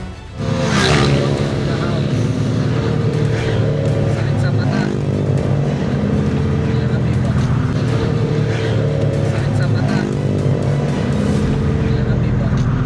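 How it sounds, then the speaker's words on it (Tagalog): A motorcycle with an open-pipe exhaust passes on a busy road among other traffic, a loud, raspy engine roar that stays constant throughout, with talk mixed in. "Tanggal naman ang iyong tutuli sa tenga pag dumaan itong motor na naka-open pipe ang tambucho."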